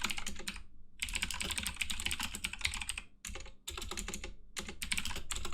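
Steady bursts of typing on a computer keyboard as C++ code is entered, close and clear, with brief pauses between runs of rapid keystrokes and no talking.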